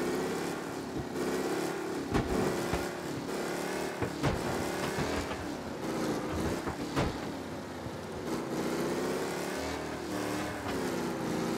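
A car engine misfires in the Mafia Definitive Edition video game, running as a steady, rough drone broken by sharp pops and stutters throughout, with no talking.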